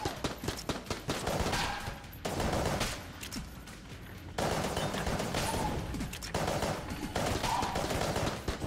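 Rapid gunfire from the Polaris gun in Enter the Gungeon blasts at enemies in dense, sustained bursts. The volleys are loud and continuous, with a few short breaks between runs of shots.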